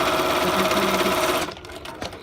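Riccar Bernina 1230 electronic sewing machine, upgraded to a 1240, runs in a steady rapid whir of stitching for about a second and a half, then stops abruptly, leaving faint mechanical clicks.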